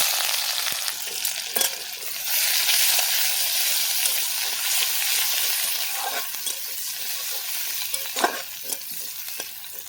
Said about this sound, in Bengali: দিয়ে দেবো তেল। একটা তেজপাতা দিয়ে দেবো।